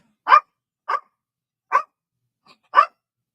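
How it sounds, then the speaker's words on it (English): A dog barks five times in single, well-spaced woofs, one of them much fainter, close by and loud against an otherwise quiet background with no talking. "He doesn't want to play with you. He doesn't like you. You bark too much."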